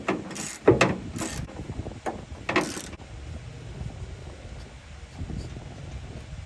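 A 13mm deep socket ratchet working loose the gas tank strap bolt under a 1973 VW Westfalia, with a few sharp metallic clicks and clanks early on, then quieter mechanical fiddling against a steady outdoor background.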